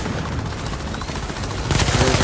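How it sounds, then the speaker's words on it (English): Helicopter rotor drone with bursts of automatic gunfire in the video game The Division, loud and close, the firing growing denser in the last half second. "There's a helicopter."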